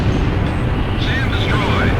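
An armored vehicle destroyed in the combat flight game Ace Combat Zero: a loud, dense explosive roar that fills the whole moment, with a faint sweeping whine of aircraft over it and no talk.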